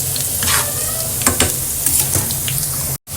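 Onion tempering for chana dal sizzles steadily in hot oil, with a bright continuous crackle and a few sharper stirring clatters, close and loud before a brief cutoff at the end.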